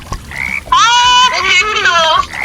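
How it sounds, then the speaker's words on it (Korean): A frog croaks loudly in the Roblox game 99 Nights in the Forest, a short chirp and then a long, strained, rasping call that wavers for more than a second. "개구리다."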